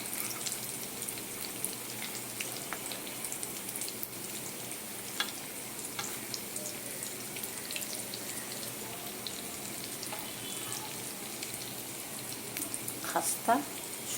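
Semolina and potato snack frying in hot oil, a soft, steady sizzle with faint crackles and occasional clinks, quiet throughout.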